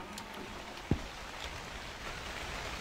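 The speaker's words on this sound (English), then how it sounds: "And it is raining out there." Soft, steady rain hiss with one faint knock partway through; a quiet, even wash of sound.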